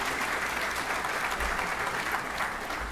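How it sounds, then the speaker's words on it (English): Audience applause at a White House foster care and technology hackathon, a steady wash of many hands clapping at moderate distance, continuous for the whole stretch without talk. "so let's give them a round of applause."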